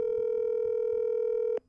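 A steady, loud telephone tone sounds as a phone call is being merged, holding evenly for about a second and a half before cutting off abruptly.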